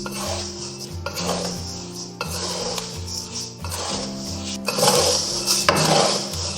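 Coarse salt with a spice packet being stir-fried in an iron wok, continuous gritty scraping and rattling of the granules with rhythmic spatula strokes against the metal, loud and close with no talking.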